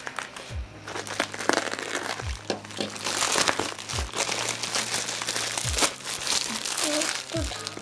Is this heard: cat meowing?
no